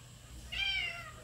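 A single drawn-out cat-like meow, clear and fairly close, standing out over a low background hum; it may be a person's voice imitating a cat.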